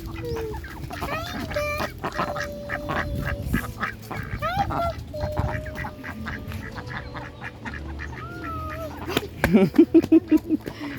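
Ducks quacking at a wedding-day outing near Montebello, a mix of nasal calls and clucks scattered through, with a loud rapid burst of quacks near the end and some background murmur.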